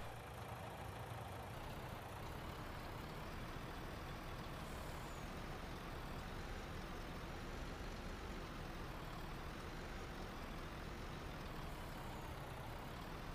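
A truck engine runs steadily in Farming Simulator 19, a continuous low rumble filling the whole stretch with no break.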